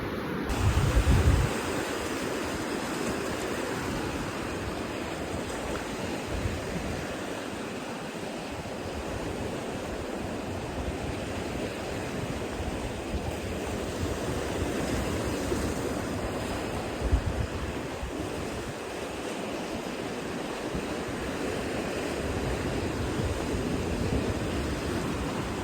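Ocean surf at Dharmadam beach in Kannur, a continuous broad wash of breaking waves mixed with wind buffeting the microphone, steady and fairly loud with no one speaking.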